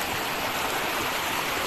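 A river flows steadily, its water a continuous, fairly loud rushing babble without breaks or voices.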